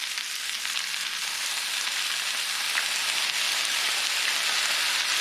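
Beef and cauliflower stir-frying in a hot pan with soy sauce, giving a steady, close, loud sizzle that holds evenly throughout with no voices.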